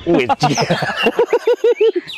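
Green leafbird (cucak hijau) singing a long song, rapid varied whistled phrases giving way to a run of repeated clear notes, loud and close.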